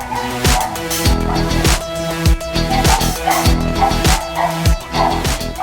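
Several dogs bark and yip repeatedly in a pet hotel play area, a busy, fairly close chorus of overlapping barks with some whimpering, no talk over it.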